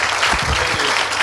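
A crowd claps steadily and loudly, a brief burst of applause with a faint voice murmuring underneath.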